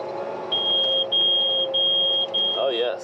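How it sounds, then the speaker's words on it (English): A corn planter or tractor, an 8R410, gives a steady high warning beep in long tones separated by short gaps, loud and close inside the cab, with a brief voice near the end. "Oh yes, the old beeping noise that you have to hear 24/7."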